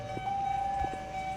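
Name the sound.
railway crossing siren in the Roblox video game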